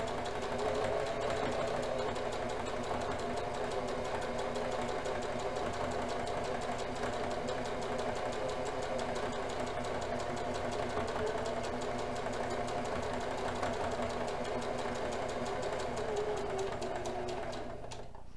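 A sewing machine stitches through awkward, jam-prone material at a moderate pace, a close, steady mechanical whir with rapid needle ticks running unbroken for the whole stretch.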